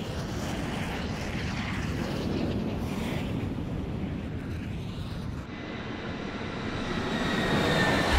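Jet aircraft engines in the flight combat game Ace Combat 6 produce a steady, broad roar that hangs close by and swells slightly toward the end, with no voices over it.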